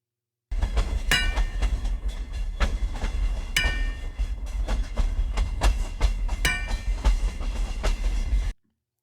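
A train rolls along railroad tracks, loud and close, with a steady rumble and repeated sharp clickety-clack wheel impacts at rail joints arriving in irregular pairs throughout, no voices.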